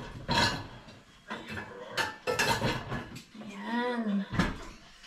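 Small rice cooking pots clatter and knock together in a home kitchen, several sharp metallic clanks close by, with someone talking over the handling.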